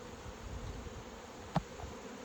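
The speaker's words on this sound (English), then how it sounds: "So to get an idea of what the bees look like." Honey bees humming around backyard hives, a faint, steady low drone with a single brief insect pass close by near the end, no voices.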